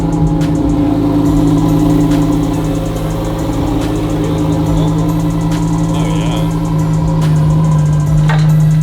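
The engine of a wrecked Lamborghini Huracan Performante runs steadily, a loud, continuous mid-pitched hum that holds at idle throughout, with a few faint clicks and background noise over the top.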